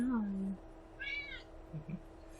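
A pet kitten gives one short, rising-and-falling meow, close by and fairly soft, while a person talks gently just before it.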